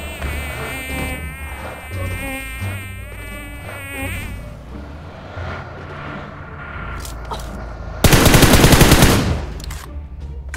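Gunfire in a solo match of a battle royale shooter crackles amid layered game music and effects, peaking in a loud, dense burst of rapid shots near the end.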